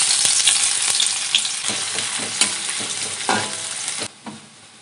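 Chopped onions fry in hot oil in a wok, making a loud, dense, close sizzle with scattered stirring scrapes that cuts off abruptly near the end and leaves a quieter hiss.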